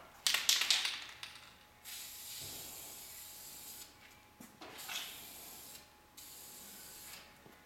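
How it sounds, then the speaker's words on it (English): Hissing bursts of a black spray paint can sprayed onto a car, a loud spurt at the start followed by several shorter, softer sprays with pauses between. "We're gonna take some black spray paint."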